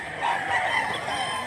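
A gamecock stag, a yellow-legged bird weighing 1.9, crows loudly and close in a single sustained call, alone without talk.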